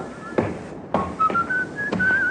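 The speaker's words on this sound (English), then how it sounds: "It's the check you've been waiting for, that fella there, whistling." A man whistles a wandering tune in a radio drama, a steady rising melody weaving through the clip, with soft footsteps or knocks thudding underneath at intervals.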